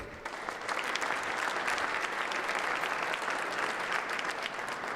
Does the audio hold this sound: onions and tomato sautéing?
no